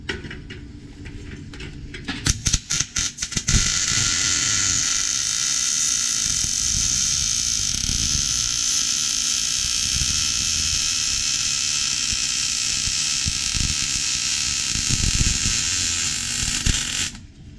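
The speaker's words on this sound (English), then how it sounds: "Just weld like so." MIG (GMAW) welding in a training shop, a steady loud crackling buzz holding for about fourteen seconds after a few brief sputtering starts, with no talking.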